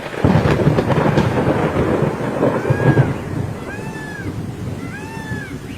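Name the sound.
sudden rain and thunderstorm in jungle cartoon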